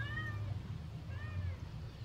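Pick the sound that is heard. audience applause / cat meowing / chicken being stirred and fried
cat meowing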